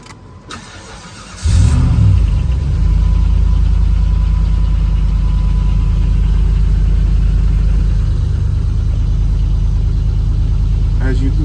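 A truck with a bad catalytic converter cranks over and catches, a brief starter whir jumping into a loud, close engine that settles into a steady idle for the rest of the stretch after a quiet opening.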